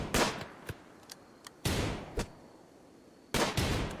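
Revolver gunshots in the video game RimWorld, a handful of sharp cracks spaced irregularly, three louder blasts among fainter pops, with no talking over them.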